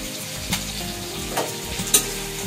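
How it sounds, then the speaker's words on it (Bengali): Ginger garlic paste frying in a pan, giving a close, steady sizzle with a few brief stirring scrapes. "এখন এক চামচ আদা রসুনের পেস্ট দিয়ে দিলাম"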